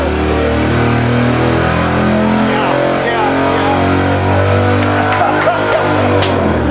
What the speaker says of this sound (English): That was the very first dyno pull that we made with the 383 Mopar